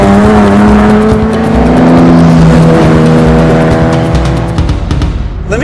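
The engine of a 1960s Nissan Skyline GT-R KPGC10 revs hard, climbing through high rpm in a loud, close, rising howl with strong harmonic tones. It holds near the top before easing off at the end.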